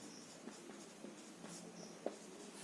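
Pen or pencil writing on paper while working an algebra problem, quiet scratchy strokes with a few sharper taps, close and faint with no talking.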